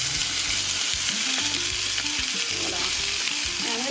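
Cold stuffed pork tenderloin searing seal side down in a hot pan, with a loud continuous sizzle and dense spitting crackle that holds steady throughout, close up.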